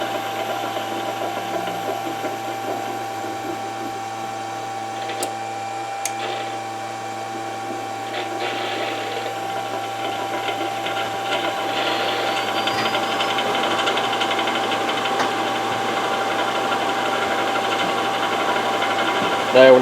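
A three-phase motor on a single-to-three-phase 5 HP variable frequency drive hums steadily with a faint whine, its tone rising gradually as speed ramps up under constant mechanical noise.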